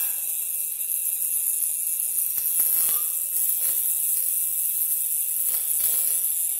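A high-voltage arc generated from 12 V DC jumps to an ungrounded wire, making a constant sizzling hiss with a few sharper crackling snaps scattered through it, moderately loud and without voices.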